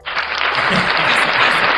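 Hands clap in a steady, dense burst at the close of a real estate talk show episode, close and loud for under two seconds with no speech.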